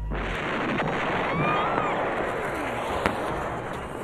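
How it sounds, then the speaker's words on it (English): Fireworks display by Zambelli International in New Castle, Pennsylvania: a dense, steady crackling roar of bursts with whistling streaks rising through it and one sharp bang near the end, heard alone without talk. "Have you ever wondered what it takes to put on North America's largest fireworks display?"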